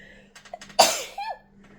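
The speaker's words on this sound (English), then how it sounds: "I have to sneeze" A single sharp sneeze bursts out close by after a few short indrawn breaths, followed by a brief voiced exhale.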